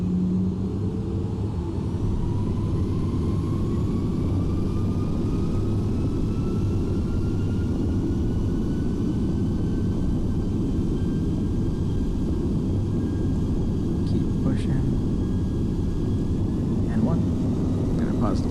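Airliner engines spool up for takeoff in the X-Plane flight simulator, a steady low rumble with a whine that climbs gradually in pitch. A voice speaks over it now and then.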